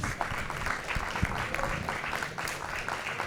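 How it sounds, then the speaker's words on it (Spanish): An audience applauds to welcome the filmmakers of a documentary at a screening, a steady moderate wash of many hands clapping, heard from a little distance. "invitamos a los realizadores de Crónicas de un Exilio, los recibimos con un fuerte aplauso"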